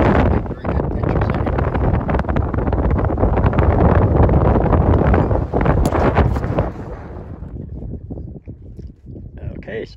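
Steady wind buffets a microphone atop a fire tower on the Appalachian Trail in Great Smokies National Park, a loud broadband rumble that eases near the end, with a voice faintly present.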